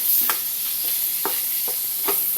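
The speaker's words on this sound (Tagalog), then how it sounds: "Habang ginigisa natin yung ating isda at yung konting pork." Milkfish and a little pork sautéing in a pan for stuffed milkfish, a steady loud sizzle with a few sharp stirring scrapes scattered throughout, no voices.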